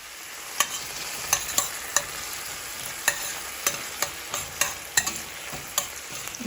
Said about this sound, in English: you just want to saute your veggies down a little bit.